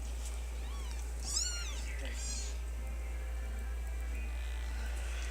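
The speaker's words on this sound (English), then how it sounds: "I would like to show you today the world's cutest kitten." A newborn kitten meows a few times in thin, high, rising cries clustered near the start, soft and close against a low steady hum, then quiet.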